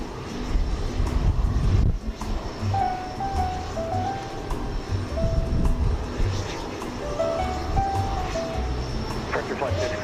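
A plane takes off at Houston Intercontinental, a steady loud engine roar with rumbling low tones throughout, while tower radio chatter and intermittent beeps sit over it.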